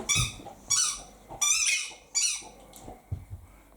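A dog chewing a squeaky ball toy indoors, producing four loud, high-pitched squeaks in uneven bursts followed by softer squeaks and thumps, close by.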